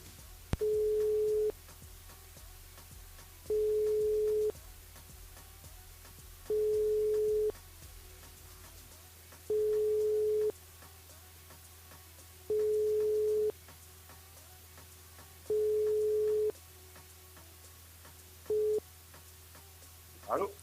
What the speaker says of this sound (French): On le rappelle sur le standard.